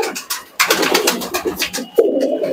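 Breeding pairs of Andhra tournament pigeons coo in a loft, with several soft, throaty calls close by that overlap one another, and no talking.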